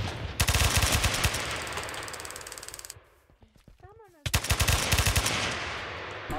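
Rapid automatic gunfire in a Minecraft world, loud sustained bursts of rattling shots broken by a short lull with a few mechanical clicks, then firing resumes.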